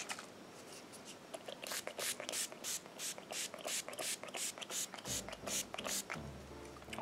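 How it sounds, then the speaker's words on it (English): Urban Decay All Nighter Ultra Glow setting spray misted onto a made-up face in a series of quick, close, rhythmic spritzes, followed by soft handling noises. "Just gonna add a bit of setting spray."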